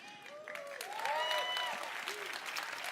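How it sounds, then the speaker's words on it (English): An audience at the Bethesda E3 presentation claps in a brief, moderate burst, with sustained applause under overlapping tonal sounds from the stage. "They don't even know what they're clapping for."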